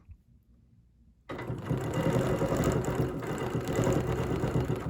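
A sewing machine double stitches a quilt border, its motor starting after a quiet second and then running steadily and loudly with a fast, even whir to the end.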